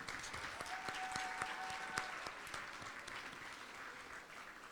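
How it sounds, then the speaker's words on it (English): At the American Arab Chamber of Commerce annual gala, an audience gives a sustained round of applause. The dense, distant-sounding clapping fills a large room and fades slightly toward the end. "Let's give Erin a huge round of applause again."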